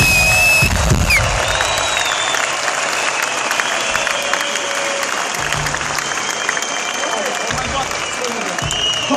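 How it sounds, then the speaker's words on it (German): A concert crowd at a show in Hannover applauds the crew, a loud, dense, continuous roar of clapping and cheering that holds steady throughout, with faint music tones running underneath. "Ich möchte euch einfach mal bitten, kurz Applaus abzufahren."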